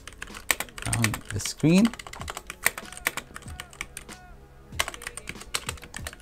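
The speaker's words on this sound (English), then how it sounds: "And I can now start typing." Computer keyboard typing in a Vim-style text editor, a quick irregular patter of clicking keys with brief pauses, heard close up while a person speaks over it.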